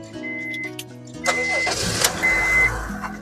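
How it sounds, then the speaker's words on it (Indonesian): A 2011 Honda Freed 1.5 E PSD automatic cranks briefly with a starter whir, catches and settles into a steady idle, heard up close over a faint background tone. "Sekarang kita coba nyalakan mobil."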